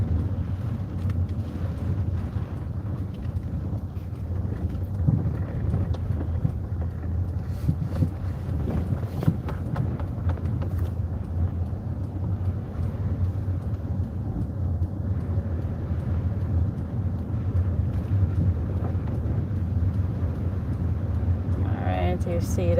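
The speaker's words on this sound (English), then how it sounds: "Yes, that's the wind doing its number." Strong wind roars over the microphone as palms and trees sway along a waterfront road, heard from a moving car as a steady, heavy rush with a low rumble. People talk over it throughout.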